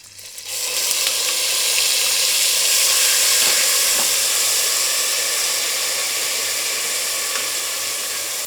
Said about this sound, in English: I shall add my onions